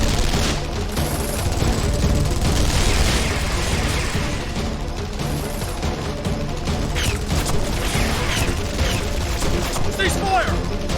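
Dense video-game gunfire from Guilty Gear Strive, sustained loud bursts and booms like a volley of automatic weapons, with shouted voices mixed into the barrage.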